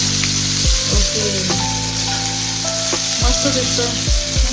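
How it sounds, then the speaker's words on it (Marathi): Bangda (mackerel) fish fillets frying in a pan over low heat make a constant loud sizzle and crackle, with intermittent metallic clanks and tonal squeaks from a spatula or pan, heard up close. "हा दोन्ही साईडून भाजून झालाय."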